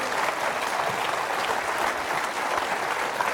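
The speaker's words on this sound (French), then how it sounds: "les applaudissements des publics présents ici" Studio audience at a French game show applauding loudly and continuously, a dense wash of clapping from the crowd without speech.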